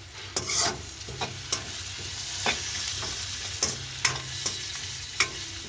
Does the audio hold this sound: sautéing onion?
yes